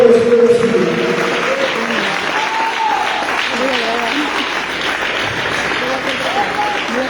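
A church congregation claps steadily through a thanksgiving service, a sustained wash of applause that continues for the whole stretch, with a voice and tonal sounds rising over it.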